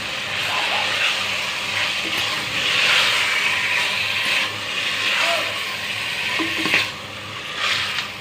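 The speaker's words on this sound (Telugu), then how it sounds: "ఇది మంచిగా ఆయిల్లో లో ఫ్లేమ్ మీద 5 మినిట్స్ ఉడకాలి" Marinated chicken frying in oil on a low flame, a dense continuous sizzle and bubbling close up, with occasional utensil scrapes and faint background noise.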